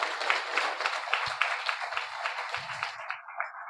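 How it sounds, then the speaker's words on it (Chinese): An audience gives a sustained round of applause for volunteers at a closing ceremony, a dense wash of many hands clapping at even strength, with a few low bumps beneath before it thins near the end. "我们也该给我们的志工们一个鼓励的掌声"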